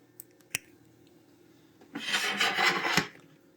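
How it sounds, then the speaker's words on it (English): Chili rub is rubbed by hand onto pork tenderloin, heard as about a second of close, quiet rasping friction after a couple of small clicks, with no talking. "Let's add some more of our chili rub."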